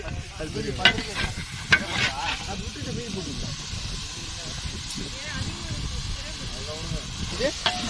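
Large onion frying and being stirred in a pan, with a steady sizzle and hiss broken by scraping stirs, while people talk over it nearby.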